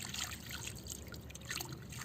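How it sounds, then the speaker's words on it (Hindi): Water pours steadily into a water lily pot, a close, continuous splashing trickle lasting a couple of seconds with no talking. "ऐसे पानी दे हर रोज़ ही"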